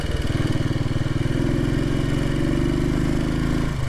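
A Royal Enfield Bullet 500 single-cylinder motorcycle thumps steadily while riding, its close, loud engine pulsing in an even low rhythm that rises slightly in pitch partway through, with no talking.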